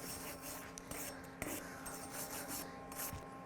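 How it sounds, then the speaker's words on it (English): Wire brush scrubbing down a stainless steel socket weld on pipe, a steady scratchy rasp with rhythmic strokes, close and continuous. "we'll brush our stainless down"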